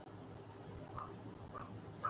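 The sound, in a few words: dogs barking at night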